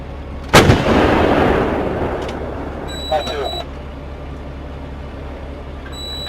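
An artillery piece or missile launcher fires once, a loud close boom whose roar decays over several seconds, followed by a faint mechanical rattle and low background rumble.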